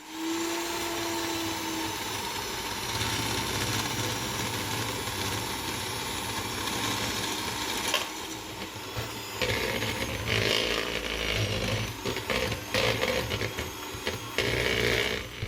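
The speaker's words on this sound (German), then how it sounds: "Als nächstes geben wir Butter in eine Schüssel und schlagen sie cremig auf." An electric hand mixer whips butter until creamy in a bowl, a steady loud motor whine running throughout, with the pitch and texture shifting as the beaters move through the butter.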